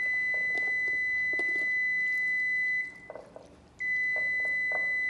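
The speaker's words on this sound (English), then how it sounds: "I'll go shut that timer off because it's annoying." A kitchen timer beeps continuously in a home kitchen during baking, a steady faint electronic tone that drops out briefly and then resumes, with soft clattering underneath.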